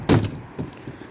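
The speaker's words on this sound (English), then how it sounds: "This door needs to be sorted like, because it's a bit sticky" A sticky greenhouse door is pulled open with a sharp knock, followed by a short softer scrape and rattle, heard close up.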